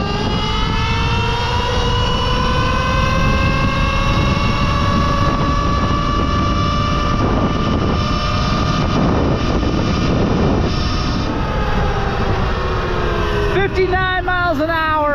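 Surron Ultra Bee electric dirt bike accelerating hard toward top speed, its steady rising motor whine heard close and loud over strong wind rush, with a brief pitch drop near the end.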